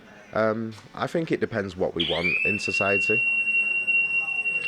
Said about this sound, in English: I believe that is a fire alarm of some sort.